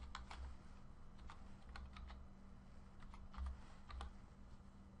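Quiet clicks of a computer keyboard as a serial number is typed in, with irregular bursts of keystrokes and brief pauses over a faint steady hum.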